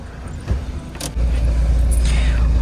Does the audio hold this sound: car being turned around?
yes